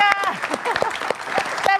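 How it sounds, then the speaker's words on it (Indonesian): Studio audience applause on an Indonesian talk show, dense clapping mixed with voices and some chatter throughout, fairly loud and close. "Oke, tepuk tangan dulu dong buat Pak Rusli."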